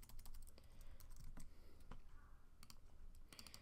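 Quiet typing on a computer keyboard, a steady run of light, irregular key clicks at close range with no talking.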